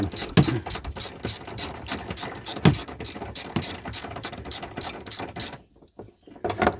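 Ratchet snugging the air filter box bolts on a 2012 Honda Pilot 3.5 liter, a steady run of quick, close clicks that stops abruptly near the end, with no voices.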